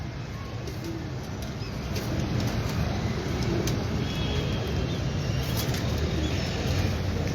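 Ferozpuri breeder pigeons on a Lahore rooftop coo softly amid a steady, loud wash of outdoor ambience and distant traffic, with no clear speech.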